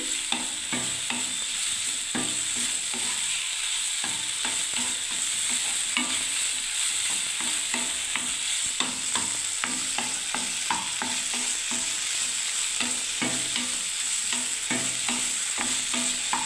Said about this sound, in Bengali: ছানাটা নাড়া হচ্ছে বন্ধুরা, আঁচটাকে বাড়িয়ে দিলাম একটু